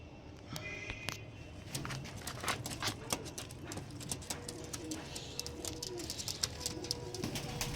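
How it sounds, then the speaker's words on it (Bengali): Pigeons coo repeatedly in soft, rolling calls, with occasional wing flutters and clicking movements close by, over a busy background murmur. "দেখে নাও পায়রা"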